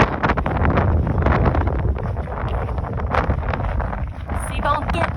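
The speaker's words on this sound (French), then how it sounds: "C'est venteux." Strong wind on the Pacific Crest Trail buffets the microphone in rumbling gusts throughout, loud and continuous, with faint rustling over it.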